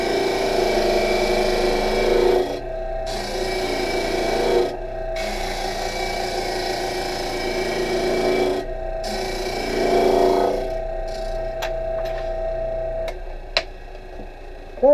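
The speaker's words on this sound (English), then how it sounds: "I'm just going to sand it all the way down to the stop block this time." A wooden feature ring for a beads of courage box is sanded down to a stop block, producing a continuous rasping grind broken by a few short pauses, ending in quieter ticks as the work stops.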